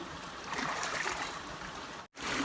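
Freshwater forest stream flowing over rocks, a steady broadband rush and trickle that holds constant, broken by a brief dropout near the end.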